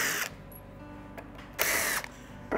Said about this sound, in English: now we just remove our little holder screws.